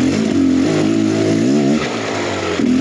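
Beta X Trainer 300 dirt bike engine revving loudly and steadily nearby, pitch rising and falling through a few throttle swells with no talk.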